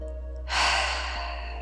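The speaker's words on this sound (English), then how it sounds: "Take a deep breath in." One slow, deep inhale through the nose during a beginner yoga session, a soft, steady airy rush lasting about a second over a low constant hum.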